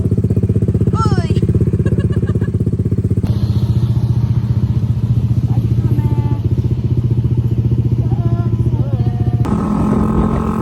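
Motorcycle engine running steadily up close throughout while riding in Cavite, with a constant low drone and occasional clatter, faint voices briefly heard underneath.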